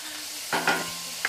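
Hot grease in a pan on the stove during cooking for shepherd's pie, a faint steady sizzle with a few soft scraping stirs, close by and with no talking.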